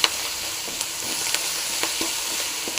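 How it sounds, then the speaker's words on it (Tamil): Agathi keerai greens frying dry in a pan without water, a continuous sizzle punctuated by occasional spatula taps and scrapes, close and moderately loud with no voices. "அப்படியே தண்ணியே ஊற்றாமல் நல்லா ஃப்ரை பண்ணிங்க நல்லா ஃப்ரை ஆகட்டும்"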